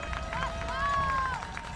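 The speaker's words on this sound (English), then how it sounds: "Crowd is going nuts once again." A football crowd roars in the stands as a distant, broad wash of cheering spread under a television broadcast, with a faint whistle-like tone rising briefly over the din.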